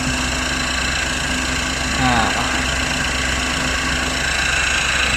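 A 12-volt, 5-ton electric car jack raises a car resting on stacked wooden blocks, its motor giving a steady, fairly loud mechanical hum with a brief swell partway through.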